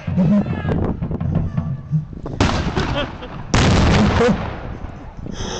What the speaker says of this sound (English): up at ladder, and down comes another grenade